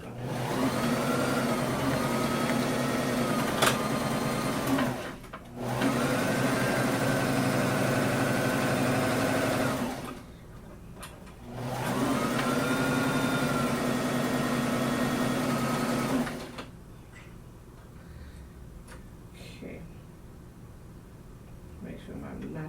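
A sewing machine runs in three sustained bursts, back stitching and then sewing forward on a Simplicity pattern S8740 garment. Its steady whirring motor hum stops abruptly between runs, leaving short, quieter gaps.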